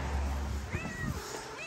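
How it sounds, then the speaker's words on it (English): A cat meows close by, a couple of drawn-out rising and falling cries over a low background rumble, with no talking. "I just heard her go meow, meow."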